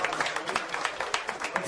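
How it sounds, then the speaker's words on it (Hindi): An audience claps for Hitkamya Singh Narwal at a comedy show, a short burst of moderate, fairly close applause with a voice speaking over it. "Can we start clapping for हितकाम्या Singh Narwal? Narwal इनके लिए ताली बजा देंगे"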